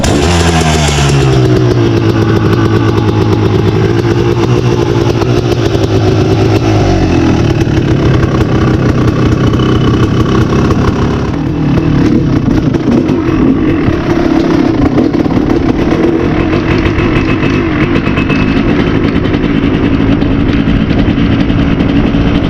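A Kawasaki KX 250 dirt bike's two-stroke engine runs loud and close through its exhaust, holding a buzzy idle before climbing into sustained high revs with a rough, crackling exhaust note.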